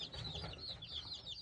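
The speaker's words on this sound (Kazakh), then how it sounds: "Әдемі ұйықтап жатыр міне балапандар." Newly hatched chicks fresh from an incubator chirping together in a steady, high-pitched, overlapping peeping chorus, close and fairly soft.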